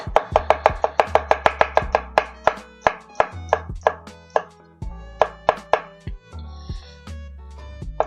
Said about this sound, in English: So I'm just going to give it some thin slices.